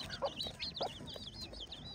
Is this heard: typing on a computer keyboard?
no